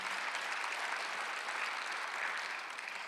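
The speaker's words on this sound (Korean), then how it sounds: "빨리 박수 주세요." Church congregation applauding during a Sunday worship service, a steady wash of clapping from many hands filling the room throughout, with no talk over it.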